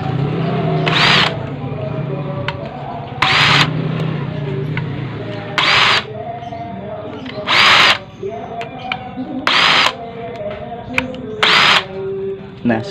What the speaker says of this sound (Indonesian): Kita langsung praktekkan saja menggunakan bor tangan